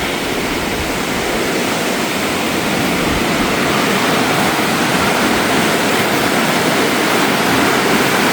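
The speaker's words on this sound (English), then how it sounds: "There it is, the New River, one of America's oldest, and one of the oldest in the world" The New River in West Virginia rushes steadily, a loud, unbroken broadband roar of flowing water with no pauses or voices over the whole stretch.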